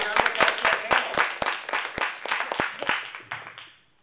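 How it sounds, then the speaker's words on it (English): Close, crisp clapping from an audience welcoming a panel at a New York library event, brisk and sustained for about three and a half seconds before stopping. "please, give a round of applause to our panel"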